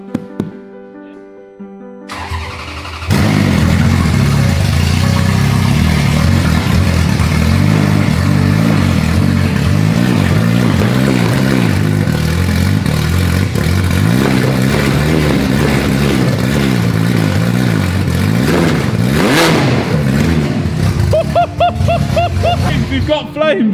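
A Ferrari F430 engine revs hard and steadily for a long stretch, loud and close, with a brief quieter start and some clattering toward the end.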